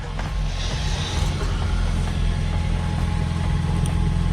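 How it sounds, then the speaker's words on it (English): A 2010 Mazda 6 engine idles steadily with a low, rumbling exhaust drone and faint puffing from a small exhaust leak, close by, with no voices. "here we have exhaust fumes coming out. But I think we have a leak."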